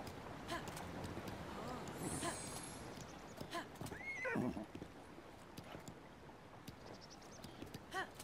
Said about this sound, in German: Was ist los? Was hat das Pferd?